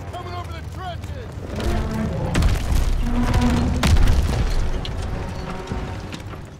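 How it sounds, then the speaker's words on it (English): Tanks rumbling forward over trenches in a World War II video game, a low heavy churn with mechanical clanks and booms swelling in the middle, loud, with shouting voices over it. "Watch out! Friendly tanks coming over the trenches!"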